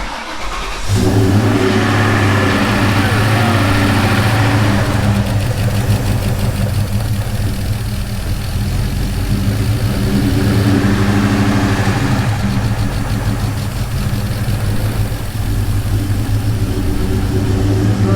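A car engine idles steadily while warming up just after a cooling-system repair, with the mass airflow sensor newly plugged back in; the running engine is loud and close, with a slight lift in revs midway.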